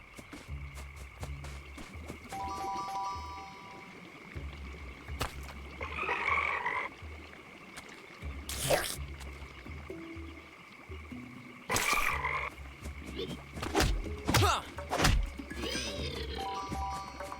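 Toads croak in the video game Kao the Kangaroo, with repeated croaks in bursts over a steady game soundtrack, several fairly loud and close, with no talk.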